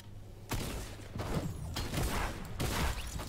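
Gunfire in the Fortnite video game comes in three or four loud, dense bursts of shots, each lasting around half a second to a second, with brief gaps between them and low game background underneath.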